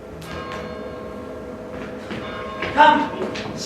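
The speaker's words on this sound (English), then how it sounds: "the curfew bell hath rung" A church-style curfew bell tolls in a stage production of Romeo and Juliet, soft and somewhat distant, with a brighter strike near the end over low background ambience.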